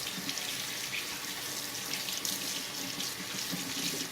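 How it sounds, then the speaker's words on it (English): Water runs steadily from a tap into a sink as soap is rinsed off hands, giving a continuous hissing splash with small fluctuations, moderately close and without speech. "Rinse that soap off really good."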